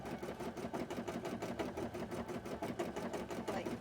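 A beading and embroidery machine stitching cosplay work, running in a fast steady mechanical rhythm of rapid needle strokes, close but fairly quiet, with no speech.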